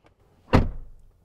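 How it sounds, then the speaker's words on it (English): The door of a 2022 Land Rover Defender 90 V8 swings shut with one solid, close thud and a short decay into quiet. "Doors close with a very nice thud."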